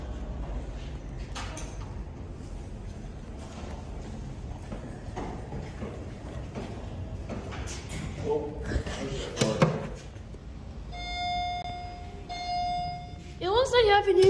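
An elevator door at Tampa International Airport closes roughly with rattling scrapes and heavy thumps, followed by steady electronic chime tones, with faint voices and room noise throughout.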